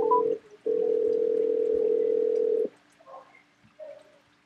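A telephone tone sounds after a call hangs up: a steady held electronic tone, briefly broken and then resumed for about two seconds, followed by faint short blips.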